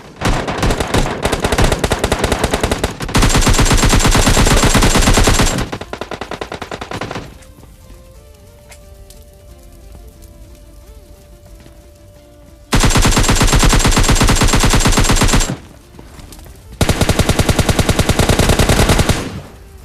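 Automatic gunfire in PUBG Mobile Lite, a solo-versus-squad rush match: loud sustained bursts of rapid shots in several blocks, separated by quieter stretches of game ambience with a steady tone.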